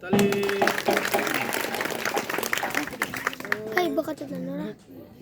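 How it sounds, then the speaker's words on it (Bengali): Wedding guests clap during a garland exchange, scattered applause mixed with people talking, and the sound fades out near the end. "হাততালি দিবেন।"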